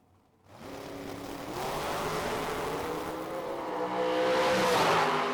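A dragster launches down the drag strip at a summer shootout race. Its engine bursts in abruptly after a brief lull and holds a loud, steady, rising roar for several seconds.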